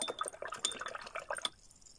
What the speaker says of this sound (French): rincer mon petit chiffon